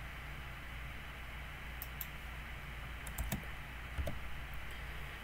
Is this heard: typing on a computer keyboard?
yes